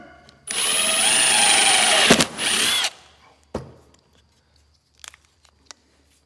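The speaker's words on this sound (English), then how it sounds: "I just drill my hole." Power drill boring a hole through a wooden pigeon perch, a loud steady whine for about two seconds that dips briefly and resumes, then stops, followed by a few faint knocks and clicks.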